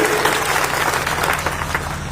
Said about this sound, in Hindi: मैं चाहता हूं एक बार जोरदार ताली बजाएं आज के उनके इस संबोधन के लिए।